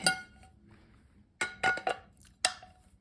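Metal pots clink and clank in a few short bursts, a large hot-pot pot and a frying pan set down and shifted close by in an otherwise quiet room.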